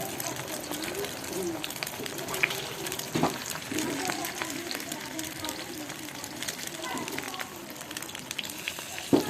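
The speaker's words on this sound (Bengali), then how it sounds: "এই যে আমি এখন ডিম ভাজি করতেছি" Eggs fry in a pan with a steady, low, crackling sizzle at moderate distance, broken by a few sharper pops.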